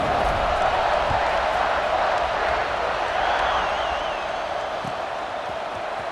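A football stadium crowd roars and murmurs in a broad, continuous wash as a game's kickoff nears, with a distant whistle-like tone briefly audible.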